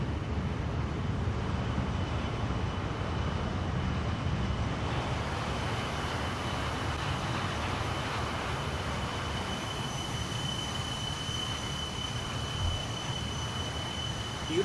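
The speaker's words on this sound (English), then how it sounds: "And it is an awesome sounding, awesome flying airplane." Jet engines of a JustFlight BAe 146 airliner in Microsoft Flight Simulator, a steady loud roar with a sustained high whine throughout, brightening slightly partway through, with no talk.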